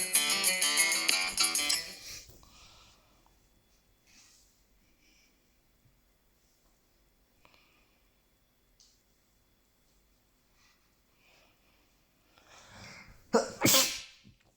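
A single loud, sharp sneeze from a person close to the microphone near the end, after a noisy opening and a long quiet stretch.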